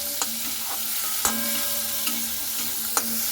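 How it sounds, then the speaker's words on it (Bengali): Prawn heads frying in oil in a kadai give a steady, close sizzle, broken by a few sharp taps of a stirring utensil against the pan. "চিংড়ি মাছের মাথাটাকে এইভাবে একটু আমি ভালো মতো করে একটু ভেজে নিচ্ছি 2-3 মিনিট।"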